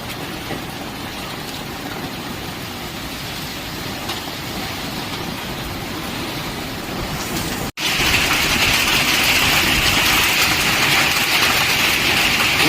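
Steady broadband hiss of heavy rain and hail pelting down on a village in a March storm, a constant dense wash that grows brighter and louder after a brief dropout partway through, with no talking.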